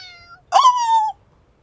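A single cat meow from the Avatar World video game, a clear rising-then-falling tonal call about half a second long, loud and isolated against a quiet background.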